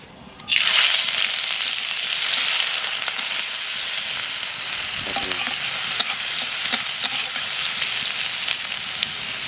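Mustard seeds and onion fry in hot oil, a steady loud sizzle starting abruptly after a brief pause and running continuously, with a few soft crackles and stirring scrapes partway through.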